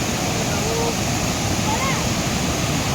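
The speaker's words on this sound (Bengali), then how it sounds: "আওয়াজটা জলের আওয়াজটা শোনো কি অবস্থা" Rushing floodwater of the swollen Ajay river on a rainy day, a loud, continuous broadband roar filling the whole stretch with no let-up.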